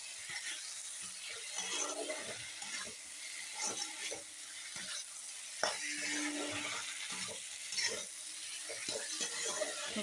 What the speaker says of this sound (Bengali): দিয়ে ভালো করে মশলার সঙ্গে কষাতে হবে ওলকপিগুলো আর কচুগুলো